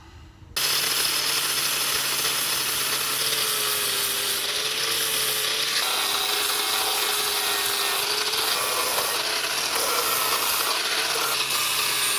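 A power-driven wire wheel grinds rust off the front jacking point of a VW Sharan, a loud, continuous abrasive whir starting abruptly and holding steady with shifting pitch as pressure changes.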